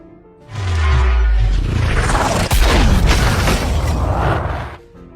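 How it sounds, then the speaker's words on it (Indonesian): A heavy cannon blast booms loud and close as the shot hits a building, then a long rumbling roar of destruction and crumbling debris that fades out after several seconds. "Dan seketika meriam itu menghantam gedung Kapten Gromov."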